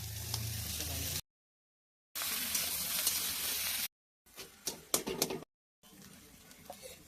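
Potatoes with salt and dried chilli powder fry in a pan, giving a hissing sizzle in several short bursts broken by silent gaps, with a few utensil clinks and stirring scrapes.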